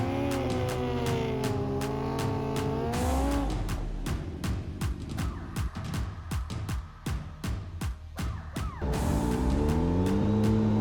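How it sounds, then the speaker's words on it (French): Race motorcycles, including a ZX14, revving hard while warming their tyres before a half-mile drag race: loud sustained engine whine rising in pitch, then a series of sharp rapid bursts and cuts, with the roar climbing again near the end. "Les pilotes commencent par chauffer les pneus pour chercher le plus d'adhérence possible"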